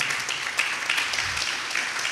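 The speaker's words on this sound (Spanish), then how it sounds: "Así aplauda su nombre, por favor." A church congregation applauds during a Spanish-language conference for pastors and leaders, a steady wash of clapping that holds evenly for about two seconds with no speech over it.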